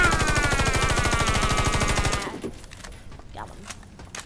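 Rapid automatic gunfire from the video game Warface rattles loudly in a steady burst for about two seconds, then cuts off, leaving a few quieter scattered shots and clicks.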